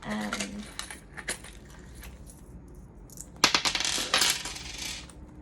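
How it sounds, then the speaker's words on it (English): Coins from a wallet clink and jingle as they are handled close up, scattered metallic clicks building to a dense rattle near the end. "Sorry, these coins."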